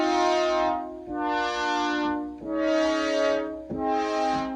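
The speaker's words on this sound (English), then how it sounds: "The original X8 brass sounds like this." Original X8 brass synthesizer preset played on a keyboard, four sustained brass chords with soft swelling attacks, each held about a second, loud and alone.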